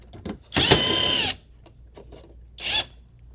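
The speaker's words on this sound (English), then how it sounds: "Take the screws out the radio." A power drill backs screws out of a golf cart dashboard radio in two short, close, high whirring bursts, with quiet clicks and handling noise in between.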